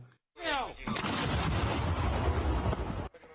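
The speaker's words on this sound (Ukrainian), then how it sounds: "Це гармата Д1 у вагнерівців гаубиця зразка 43-го року стріляє лише на 12 кілометрів." A single heavy blast from a 1943-model D-1 howitzer roars out and rumbles on for a few seconds, loud and close, after a brief rising whistle-like sweep.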